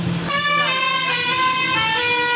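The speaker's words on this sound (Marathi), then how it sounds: "थोडासा आवाज आहे गाड्यांचा, मोठ्या गाड्या जातात त्यामुळं आवाज." Large vehicles pass on a nearby road: a brief rumble, then a loud, sustained truck horn blares close by for about two seconds.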